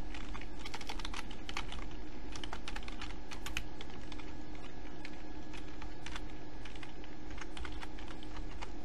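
Fingers type steadily on a computer keyboard, a soft patter of key clicks running throughout under a low background hum.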